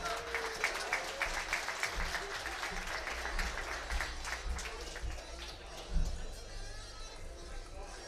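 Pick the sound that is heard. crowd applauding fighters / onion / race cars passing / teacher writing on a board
crowd applauding fighters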